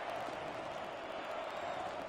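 Stadium crowd in a Madden football video game, a steady broad roar of cheering spectators holding at moderate level throughout, with no distinct voices on top.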